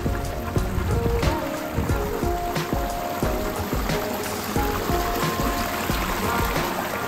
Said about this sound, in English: That is a pondless waterfall.